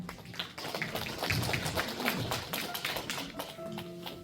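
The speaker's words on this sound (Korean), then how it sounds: "박수 부탁드립니다." Scattered audience clapping in a hall at a senior welfare center evaluation meeting, quiet, uneven claps building briefly then thinning out, with soft room murmur underneath.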